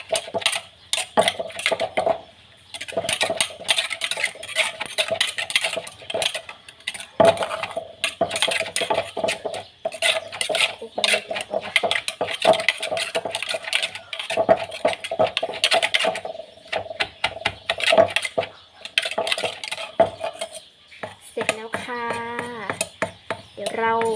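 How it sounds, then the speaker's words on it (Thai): Corn and sticky rice pounded in a mortar for a spicy Thai salad make rapid, rhythmic thuds and clattering knocks close by that continue throughout, with a voice briefly near the end. "แล้วก็ตำตำโขลกๆเลยนะคะ"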